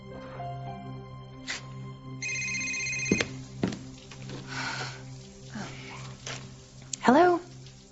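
A cell phone rings indoors with a repeating electronic tone, followed by clunks and a short sharp chirp near the end, with faint voices in the background.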